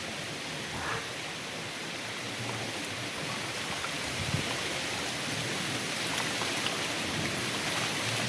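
Heavy rain pours steadily during a Kalbaisakhi pre-monsoon storm, a dense, continuous hiss of downpour that holds at a loud level throughout, with no voices.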